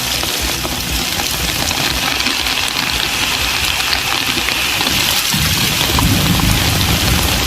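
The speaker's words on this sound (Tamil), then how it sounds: "ஈரோடு மாவட்டத்தில் கொட்டி தீர்த்த கனமழை" Heavy monsoon downpour pours steadily over Erode district, a dense, continuous roar of rain that swells slightly louder toward the end, with no voices.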